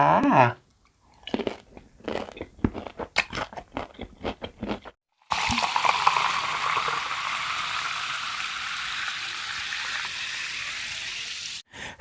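Crunchy unripe mango being eaten, served with a fermented fish sauce and shallot dip: close, loud bites and repeated crisp chewing in the first seconds, then a steady broad hiss fills most of the rest.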